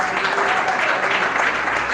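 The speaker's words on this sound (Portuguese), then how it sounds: "Pode exaltar o Rei Jesus com palmas." Church congregation clapping in praise of Jesus, a brief burst of steady, fairly loud applause with some voices mixed in.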